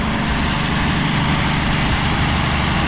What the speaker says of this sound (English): They got the air compressor right here.